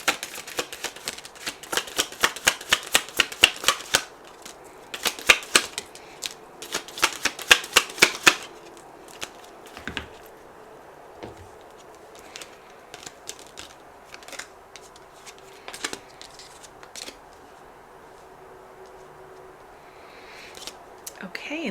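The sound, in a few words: shuffling tarot message cards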